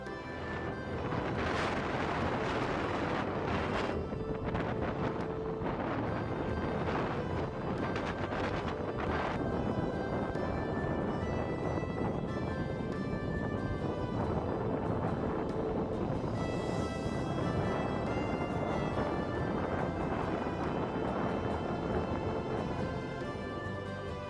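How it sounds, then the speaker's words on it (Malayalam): Strong wind sweeps across a hilltop viewpoint at Sathram in Idukki, a loud, continuous roar buffeting the microphone throughout with no one talking. "ഞാനിവിടെ ഷൂട്ട് ചെയ്തുകൊണ്ടിരിക്കുമ്പോൾ ആ കാറ്റ് വന്ന് അടിക്കുന്ന സൗണ്ട് ക്യാമറയിൽ റെക്കോർഡായിട്ടുണ്ട്"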